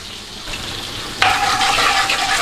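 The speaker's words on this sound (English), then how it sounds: "Give it a little stir around." Pan-roasted tomato sauce gets stirred in a hot pan, a soft scraping at first, then a sudden brighter sizzle and steady frying hiss as the contents are moved around, with no talking.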